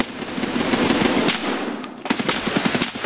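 Automatic gunfire in Escape from Tarkov at the Interchange map, loud rapid bursts of shots, a brief gap, then another quick string of rounds.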